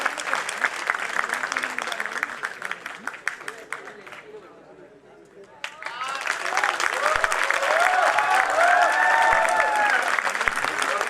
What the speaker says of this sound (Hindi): मैं उनको आपकी जोरदार तालियों के साथ आमंत्रित करता हूं।